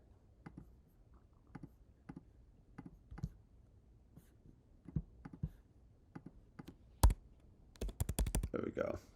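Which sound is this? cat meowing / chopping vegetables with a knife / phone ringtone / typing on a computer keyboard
typing on a computer keyboard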